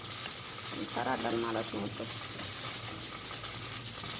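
Meat frying in a pan for tibs, a continuous bright hiss and sizzle running throughout, with a person speaking briefly over it near the start.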